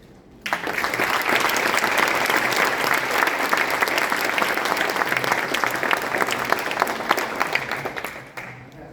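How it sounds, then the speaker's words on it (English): Sustained audience applause at a fire department lifesaving award presentation, a dense, steady wash of many hands clapping that starts abruptly and carries on for several seconds before tapering off at the end. "How about another round of applause for them?"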